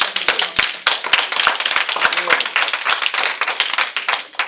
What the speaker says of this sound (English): So you applaud me now, but you were booing me before I spoke.